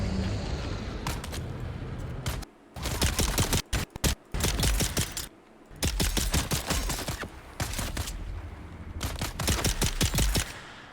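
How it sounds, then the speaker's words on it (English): Sardaukar soldiers firing guns in a Dune video game, heavy bursts of rapid gunfire coming in loud clusters with brief gaps between volleys. "Luckily, they're shooting a lot and not trying to fight me hand to hand"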